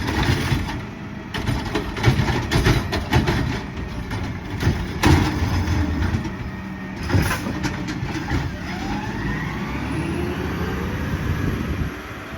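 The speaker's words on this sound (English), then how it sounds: "So with that being said, well, that's the garbage truck." A garbage truck's engine running on a street, a rough, loud rumble with clanks and mechanical bursts, steady throughout and rising slightly near the end, with no talk over it.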